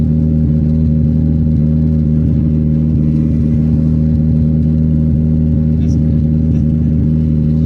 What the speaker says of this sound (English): we're driving the Honda Accord!